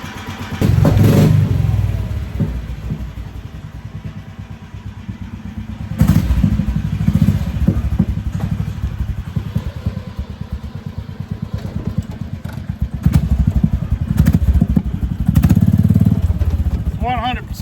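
A Predator 459cc small engine runs on a new carburetor, revving in loud repeated bursts that rise and fall, with someone talking over the running engine.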